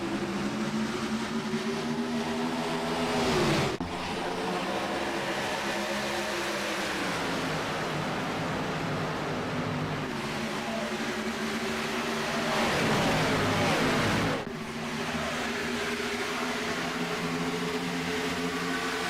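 A field of race cars in the iRacing simulator at Atlanta Motor Speedway drones loudly and continuously after the start, engines rising in pitch with a couple of sharp gear-shift drops.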